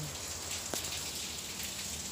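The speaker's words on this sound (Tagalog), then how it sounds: "Kasi nga sobrang lakas ng ulan." Heavy rain pours down outside a house in a dense, steady hiss that holds at an even level throughout, with no voices.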